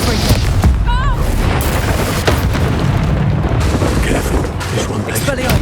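A Confringo blasting spell explodes in the wizarding video game Hogwarts Legacy, a dense, loud rumbling blast within steady battle noise, with voices calling out over it.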